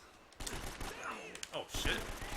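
Gunfire in Uncharted: Drake's Fortune, a burst of shots from a third-person action game during a run of headshots, repeated over about two seconds and layered with game effects and a voice talking.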